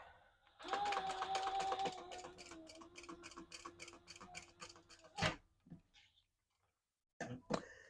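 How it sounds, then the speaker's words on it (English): A sewing machine stitches a wallet with a 1/4 inch stitch, running in a fast, even rhythmic burst for a few seconds up close, then stopping, followed by a few handling clicks and quiet gaps. "now we're going to just sew that together. And I use a 1/4 inch stitch"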